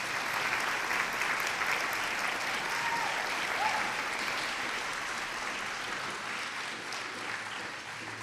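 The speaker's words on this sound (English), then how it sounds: "Let's give a round of applause for all the work that they do." Steady, even applause from an awards-night audience honouring committee members, a dense wash of clapping that holds at moderate volume throughout without a break.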